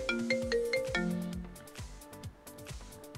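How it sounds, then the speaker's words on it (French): A mobile phone plays a melodic ringtone, a sequence of clear electronic tones that rings on steadily with a faint background, no voices. "j'ai mon téléphone qui sonne"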